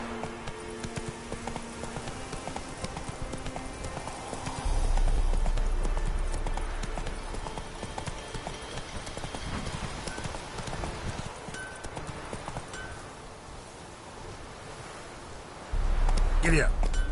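A horse gallops in a video game with a steady clip-clop of hooves over a busy game soundscape, with a few heavier thumps along the way.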